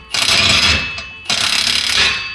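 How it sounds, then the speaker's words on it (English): Exhaust clamps are being tightened under a Ford F150, with two loud bursts of rapid metallic ratcheting from a close tool, separated by a brief pause. "I'm gonna go through and we're gonna tighten every clamp."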